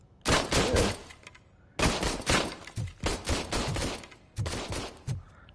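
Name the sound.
gunfire from a gun in the video game Robocop Rogue City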